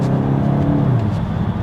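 A Volkswagen Golf GTI with its 2-litre engine revs close by, giving a deep, steady rumble that climbs and then eases slightly across the short stretch.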